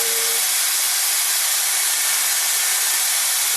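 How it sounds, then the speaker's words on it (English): A drill boring straight down through material on a homemade Arduino CNC printer build, a loud, steady, broadband whine that holds constant throughout with no pauses and no talk. "so you don't try to force the drill all the way through in one go"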